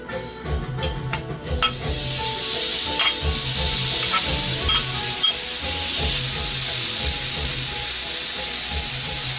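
Chopped bacon sizzles and spits steadily in a cast iron fajita pan, a loud continuous frying hiss with scattered pops and crackles, preceded by a few brief clatters at the start.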